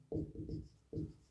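Pen scratching across paper in short strokes while working out a compound and simple interest difference problem, three quick bursts then a pause and another stroke, close and fairly quiet with no talk.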